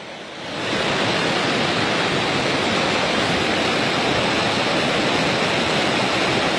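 Swollen, silt-laden river in flood rushing past, a dense continuous roar that swells up within the first second and then holds loud and unbroken, with no voices.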